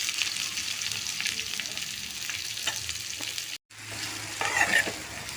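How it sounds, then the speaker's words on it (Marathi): Chopped onion sautés in a pan of already-fried garlic and ginger for Malvani chicken, giving a steady close sizzle with stirring scrapes, a brief dropout midway, then frying resumes. "त्याच्यामध्ये मी हा कांदा टाकते"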